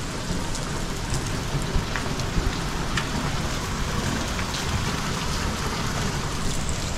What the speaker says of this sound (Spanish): llovió re fuerte recién